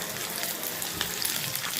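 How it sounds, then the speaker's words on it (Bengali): Onion and capsicum fry in a pan for homemade chilli chicken, a dense continuous sizzle that stays close and even for the whole short stretch, with no talking. "পেঁয়াজ একটু হালকা ভাজা হয়ে গেছে আমি এবার একটু একটু ক্যাপসিকাপটা দিয়ে দেবো"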